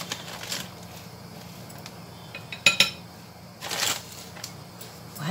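Batter being stirred in a bowl with a spoon, giving soft, faint scraping and swishing with a few light clinks of metal against the bowl, quiet and close.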